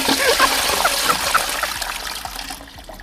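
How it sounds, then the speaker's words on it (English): A toilet flushes with a rushing, gurgling swirl of water that trickles and splashes for a few seconds, then quickly drains away to quiet. "I want to give the toilet a flush."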